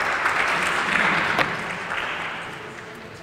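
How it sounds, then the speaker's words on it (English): Applause from an audience at a regional business tour event, a steady dense clapping that holds for about three seconds and slowly fades. "Let's clap hands for her."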